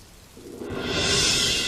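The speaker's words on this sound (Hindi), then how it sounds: "बारिश में भीगते हुए राघव देर रात घर लौटा" Rain pours steadily with a low thunder rumble building beneath it, swelling from a quieter start to a loud, continuous hiss.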